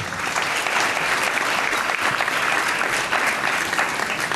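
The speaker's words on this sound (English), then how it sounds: "please get a nice round of applause for David Fields." Sustained applause from an audience at a fundraiser dinner dance, dense and even clapping that continues strongly throughout without pause.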